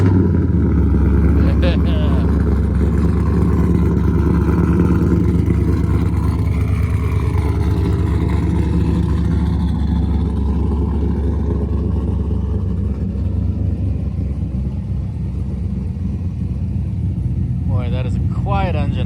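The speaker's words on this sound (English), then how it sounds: "that is a quiet engine up front" A 2002 Chevrolet Camaro SS with a cammed engine idles steadily, a loud, constant low rumble with a loping pulse throughout the clip.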